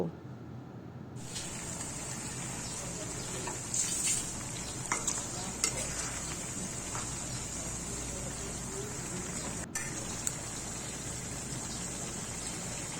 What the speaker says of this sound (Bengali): পেঁয়াজটা দিয়ে আমি ভালো করে নেড়ে দিচ্ছি।